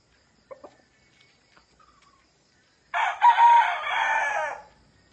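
A fighting cock crows once, loud and close, with one drawn-out call rising and trailing off after a few faint clicks and near-silence.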